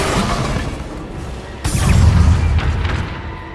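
Bombarda explosion spell cast in Hogwarts Legacy, a loud deep boom bursting midway through with a crashing rumble that fades, heard over a busy game background.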